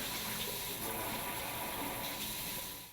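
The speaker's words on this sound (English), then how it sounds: "Test the spray and stream modes of the wand." Water sprays steadily from a pull-down kitchen faucet wand in spray mode, a continuous bright hiss and rush with no voices.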